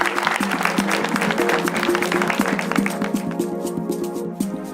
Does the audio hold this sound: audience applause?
yes